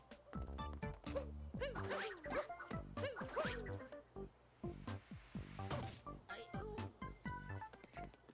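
A quick zipper sound effect from the video game Super Mario Odyssey plays amid game music and bouncy effects, with voices from the game mixed in.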